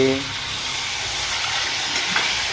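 Tomatoes, green chili and curry leaves frying in hot oil for a Gujarati potato curry, a steady loud sizzle and hiss throughout with faint stirring.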